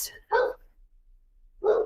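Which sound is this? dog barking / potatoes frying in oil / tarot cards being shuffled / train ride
dog barking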